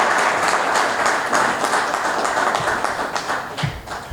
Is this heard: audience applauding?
yes